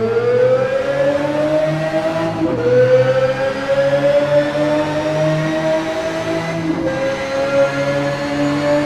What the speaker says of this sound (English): In terms of the tone of the exhaust notes, it was amazing. However, the shifting sounded so glitchy